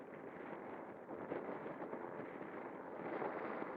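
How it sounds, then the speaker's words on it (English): Continuous low rumbling wind buffets the microphone, steady and broadband with gusty swells and no voices. "it's a bit windy today to really test objectively"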